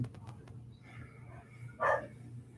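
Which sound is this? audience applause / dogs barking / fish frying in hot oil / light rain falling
dogs barking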